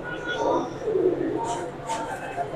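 Breeder pigeons coo softly in low, throaty bursts nearby, while someone talks over them.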